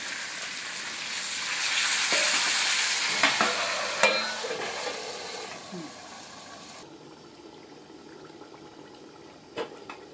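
Meat sizzles loudly in a pan once a splash of water goes in, a broad hiss swelling and then dropping away abruptly, with a few scraping stirs and clinks near the end.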